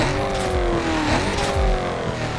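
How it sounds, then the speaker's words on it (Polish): A car engine revs hard during a timed race in Need for Speed Carbon after performance upgrades, rising and falling in loud, continuous pitch sweeps with a steady roar underneath and no voices. "po zmianie jakiejkolwiek części do osiągów dźwięk samochodu się diametralnie zmienia"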